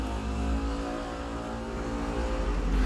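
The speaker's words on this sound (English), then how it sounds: "Forgive that motorcycle." A motorcycle roars past on a residential New York street, its engine a loud, continuous droning rumble that swells slightly toward the end, with no voices over it.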